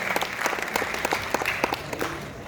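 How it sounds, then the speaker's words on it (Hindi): An audience claps at a theatre event, dense irregular hand claps close and steady throughout, with a faint murmur of voices underneath. "एक बार जोरदार तालियों से उनका अभिनंदन करें, उनका स्वागत करें।"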